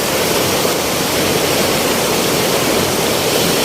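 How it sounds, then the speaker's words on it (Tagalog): A large river in flood rushes past in a loud, steady broadband roar of turbulent water that holds constant throughout, with no voices over it. "yung malalaking ilog dito sa amin mga tropa. So, actually, uh, ah, bumabaha sa ngayon."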